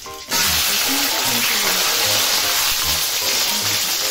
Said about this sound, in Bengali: সিমটা আমি প্রথমেই দেবো, কারণ এটা একটু তেলে নেড়ে নিব